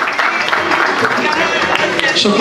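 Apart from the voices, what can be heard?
audience applause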